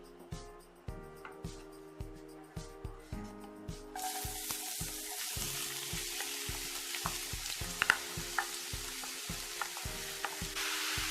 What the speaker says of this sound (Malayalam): ഇനി നമുക്കിതിലേക്ക് സവാള ചേർത്ത് കൊടുക്കാം